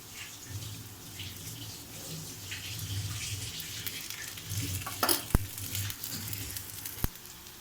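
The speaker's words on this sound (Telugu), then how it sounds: "కొంచెం ఆయిల్ వేసుకుందామండి చుట్టూ." Sorghum flatbread cooks in oil on a pan, giving a soft steady sizzle and crackle with a few sharp clinks and taps near the middle and end, no speech.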